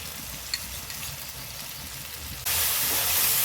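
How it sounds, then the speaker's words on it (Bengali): Spices for chicken dopiaza frying in a pan: a continuous soft sizzle and hiss that jumps abruptly to a louder, brighter hiss partway through, close up with no talking. "এখন আমি সব মশলাগুলোকে ভালো করে কষিয়ে নেব।"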